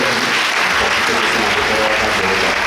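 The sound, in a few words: applause from church congregation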